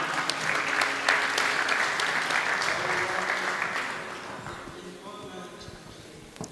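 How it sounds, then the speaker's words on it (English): Audience clapping at a multidisciplinary university conference, a strong burst of applause that gradually thins and fades over several seconds, with a voice speaking faintly over it. "Clap for her."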